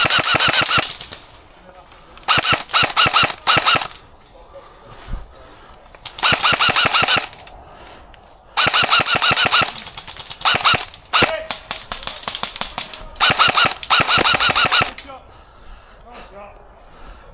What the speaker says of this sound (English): After firing a few too many shots, the enemies had finally been taken care of.